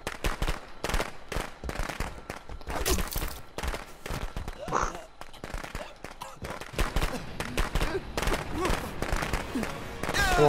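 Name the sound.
fireworks let off in video game Friday the 13th: The Game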